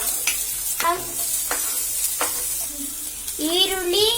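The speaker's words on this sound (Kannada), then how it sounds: "1 ಸ್ಪೂನ್ ಎಣ್ಣೆ ಹಾಕ್ತಾ ಇದ್ದೀನಿ. ಫಸ್ಟ್ ಈರುಳ್ಳಿ, ಬೆಳ್ಳುಳ್ಳಿ," Onion and garlic frying in a spoonful of oil for a gobi dish, a steady close sizzle with repeated scraping strokes of a spoon stirring the pan and a brief whine near the end.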